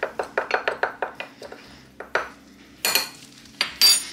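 Spoon clinking against a bowl while two ground spices are mixed together, a quick run of bright rhythmic taps that slows to sparse knocks, then a couple of louder scraping clatters near the end.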